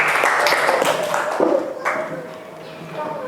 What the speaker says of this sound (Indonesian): Tepuk tangan buat Aljam